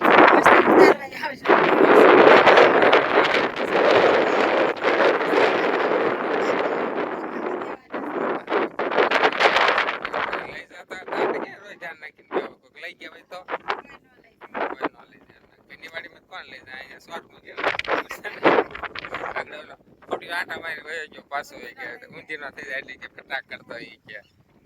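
Strong wind buffets the microphone outdoors during a trip to hand over chillies, a loud roaring rumble at first that breaks into gusty bursts, with people talking throughout.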